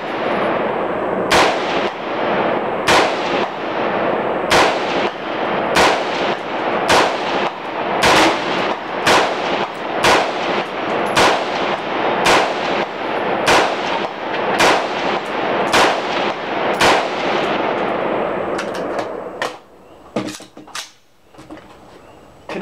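Loud, regular gunshots ring out roughly every second and a half at close range, rounds striking steel targets at an outdoor range with an AR, shotgun and bolt gun, the volley stopping near the end with a few faint knocks.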